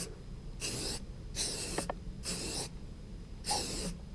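A spray paint can lays a medium coat of primer on a motorcycle frame in four separate hissing bursts, each lasting about half a second, with faint clicks between them.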